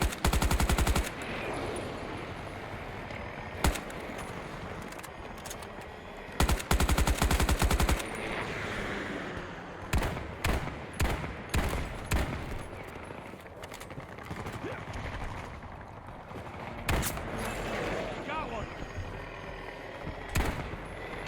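Bursts of automatic rifle fire from an AK5C in the Battlefield 2042 video game, loud and close, with sharp repeated volleys and single shots scattered through the clip alongside someone talking over them.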